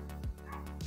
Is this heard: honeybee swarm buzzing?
no